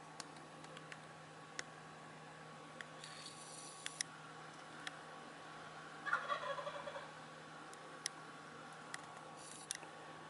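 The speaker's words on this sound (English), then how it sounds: "Hear that gobble?" A wild tom turkey gobbles once in a short rattling burst at a distance while strutting in a backyard, amid quiet outdoor ambience with faint scattered clicks.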